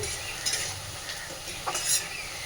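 Sliced onions fry in a pan until reddish-brown for chicken kosha, giving a steady soft sizzle with a few brief stirring scrapes, fairly close and with no talking.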